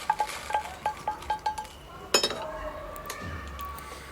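Browned, dry-roasted lentils for a gunpowder podi spice mix are transferred from the pan onto a plate with metal utensils: a quick series of light, evenly spaced clinks, then one sharper clatter and a few softer scrapes close by.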